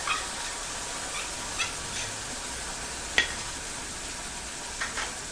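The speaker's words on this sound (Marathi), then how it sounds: "हा मसाला टाकायचा आणि तेल सुटेपर्यंत छान परतवायचं" Masala for a cluster bean curry stir-fried in hot oil, a steady soft sizzle with occasional faint scraping clicks from a spoon, close and unaccompanied by speech.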